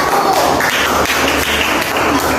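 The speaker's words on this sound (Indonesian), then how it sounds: "Beri tepuk tangan untuk kelompok 1" A classroom full of students gives applause for group 1: dense, loud, continuous clapping filling the whole short moment, close by and without pause.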